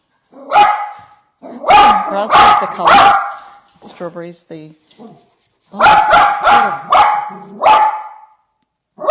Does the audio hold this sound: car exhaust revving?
no